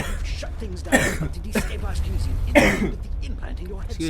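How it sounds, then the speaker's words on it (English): Two short bursts of coughing or throat clearing from a nearby voice, spaced about a second and a half apart, under continuous low background hum and some talking. "So you're getting all my glorious coughing."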